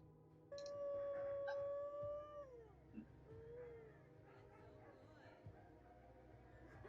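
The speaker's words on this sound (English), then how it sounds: "A singing video from the singing dog" A dog's howling 'singing', played back from a phone video, gives long sliding tonal wails in the first few seconds, fairly faint, then trails off beneath background noise.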